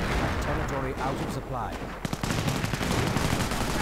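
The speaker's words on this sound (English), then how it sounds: "Grenadiers pretty much instantly suppressed by the Vickers machine gun" Vickers machine gun fire in the Company of Heroes video game, rapid bursts of automatic fire mixed with other battlefield shots, heard under a commentator's voice.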